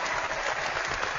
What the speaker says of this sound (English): I'm liking the applause, I'm not going to lie.